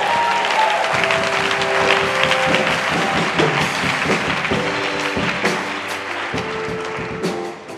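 Church congregation applauding and acclaiming the Lord, a loud continuous wash of clapping and voices with organ or keyboard tones sustained underneath for several seconds.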